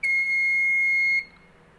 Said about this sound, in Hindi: buzzer buzzer